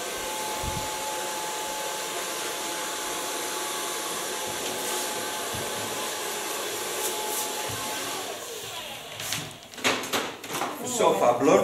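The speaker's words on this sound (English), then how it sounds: "So far blow drying" Hair dryer blowing steadily as a short pixie cut is blow-dried in a salon, a constant airy whoosh that runs for most of the time before giving way to rustling and handling noises near the end.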